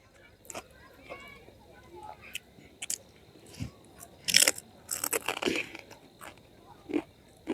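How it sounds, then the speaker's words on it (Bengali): Crunchy fried nimki snack being bitten and chewed outdoors in a village, a few sharp crunches scattered among quieter sounds and some talking nearby. "আর গ্রামের মধ্যে হচ্ছে আমি নিমকি ভাজা খাচ্ছি"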